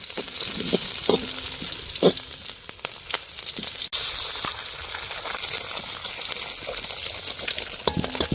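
Green chilies sautéing in a pan for Jaffna-style kottu, a close crackling sizzle broken by several sharp scraping and tapping strokes, with a brief pause midway before the frying continues.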